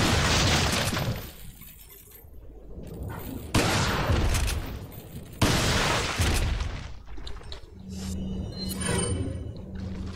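Heavy shotgun blasts boom one after another in Resident Evil 4, fired at close range. A few loud reports with decaying tails are followed by quieter game sounds.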